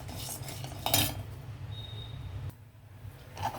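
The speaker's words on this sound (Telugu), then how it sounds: "ఇదిగోండి ఇవి మాడిపోకుండా ఇలా కలుపుతూ దోరగా ఇలా వేయించాలన్నమాట." Spoon stirring melon seeds as they fry in ghee in a kadai, giving soft repeated scraping and light metallic clinks against the pan, steady and close throughout.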